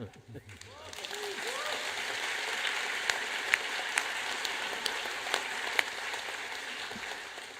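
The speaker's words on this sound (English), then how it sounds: "So a round of applause for the largest middle-class population in China." A lecture audience breaks into applause, starting faintly under the tail of a speaking voice and swelling into a soft, continuous wash of distant clapping with a few sharper individual claps standing out.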